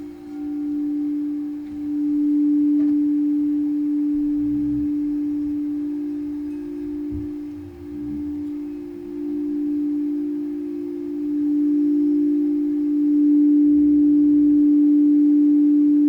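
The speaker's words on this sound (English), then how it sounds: "crystal sound bowls are probably the most popular instrument in a sound bath" A pure, sustained crystal singing-bowl tone hums continuously, swelling and fading slightly in loudness, with faint low thumps underneath; no speech.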